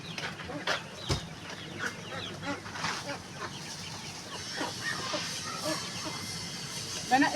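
Hens and young chicks cluck and peep in a farmyard, a busy run of near, overlapping calls with sharp bursts throughout, mixed with faint background voices.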